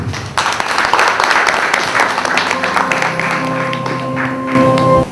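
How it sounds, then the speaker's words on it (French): An audience at a Côte d'Ivoire audiovisual producers' fair breaks into loud applause, dense clapping under a sustained musical tone that rises in the second half, the clapping thinning toward the end. "qu'on applaudit s'il vous plaît."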